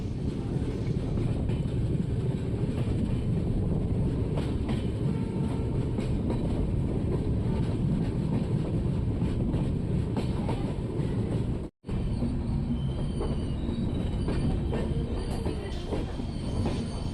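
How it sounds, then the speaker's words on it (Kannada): Mysore–Ajmer express train pulling into platform 3 at Arsikere Junction, a steady loud rumble of carriages and wheels on rail running throughout, briefly cut off near the end before resuming. "ಪ್ಲಾಟ್ಫಾರ್ಮ್ ನಂಬರ್ 3 ಅರಸೀಕೆರೆ ಜಂಕ್ಷನ್ಗೆ ನಮ್ಮ ಟ್ರೈನ್ ಬಂದಿದೆ"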